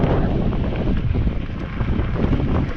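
Steady, heavy wind buffeting the microphone on a steep dirt trail ride on an Aventon Sinch e-bike, a loud continuous roar with no other sounds standing out.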